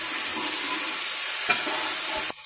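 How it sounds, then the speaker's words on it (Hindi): Tomatoes being stirred into cauliflower curry as it fries in the pan, a steady close sizzle with spoon scrapes and one sharp clink partway through, no talking. "और इसको भी अच्छे से मिक्स कर देंगे टमाटर को भी।"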